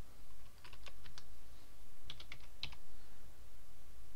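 Password being typed on a computer keyboard: two short bursts of crisp, close key clicks, a few quick presses each, separated by a brief pause over a quiet room background.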